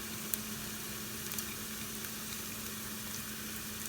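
Chilies and ginger garlic paste fry in a pan for a tofu and eggplant dish, a faint, steady sizzle with a few tiny pops and crackles, quiet and continuous throughout.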